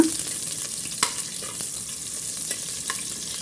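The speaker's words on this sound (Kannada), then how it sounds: "ಈರುಳ್ಳಿ ಕರ್ಬೇವಿನ ಸೊಪ್ಪು ಹಾಕ್ಕೊಂಡಿದ್ದೀನಿ" Onion and curry leaves fry in a pan for a masala sprouts curry, giving a steady close sizzle with a few light stirring scrapes and taps, and no talk.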